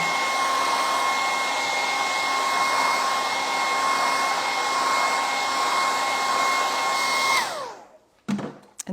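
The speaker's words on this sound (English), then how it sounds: "Now we can just hit that with a hairdryer," A hairdryer blows on wet stencil paint with a steady, loud whirring whine for about seven seconds, then switches off and winds down, followed by a couple of small handling knocks.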